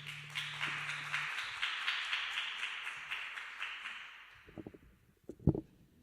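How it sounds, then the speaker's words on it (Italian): A church congregation applauds together at a weekday worship service, dense steady clapping that stays strong for about four seconds and then thins out, ending with a few scattered claps and thumps. "Possiamo fare un applauso al Signore?"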